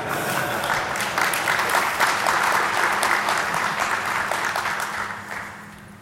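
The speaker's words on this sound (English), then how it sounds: "this is where you should clap your hands." A conference audience at a security talk claps loudly and steadily, a dense burst of hands that swells in the middle and then tapers off toward the end.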